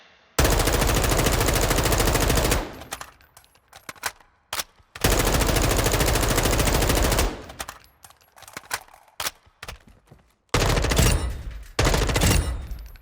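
Automatic M4 rifle fire in the video game Modern Warfare 2: two long, loud sustained bursts, then a short burst near the end, with scattered clatter and sparse game sounds in the gaps.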